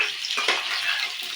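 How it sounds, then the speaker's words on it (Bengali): Potatoes fried in hot oil for a meat curry, a close, loud and steady sizzling hiss with a brief stirring rustle and no voices. "আলুটা আমি লাল লাল করে ভেজে নিচ্ছি।"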